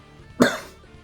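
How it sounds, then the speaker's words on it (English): One sharp, close cough bursts out and fades quickly in an otherwise quiet moment. "I'm coughing my ass off."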